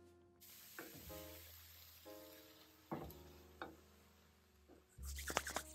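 Mushrooms and onions coated in BBQ sauce cook in a pan with a steady, quiet sizzle. Occasional utensil clinks and scrapes punctuate it, and the frying rises to a louder burst at the end.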